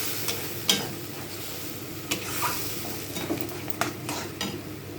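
A utensil stirs eggplant and spinach frying in a pan, giving a steady sizzle with occasional scrapes and clicks against the pan, close and moderately quiet.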